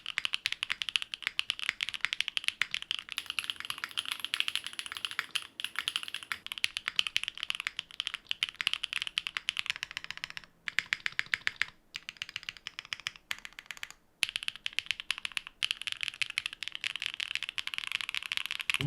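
Fast, continuous typing on a custom mechanical keyboard dampened with foam, producing bright, clacky keystrokes close to the mic, with a few short pauses between bursts.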